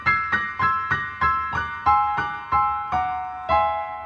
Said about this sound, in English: You can also do the Triad dream effect,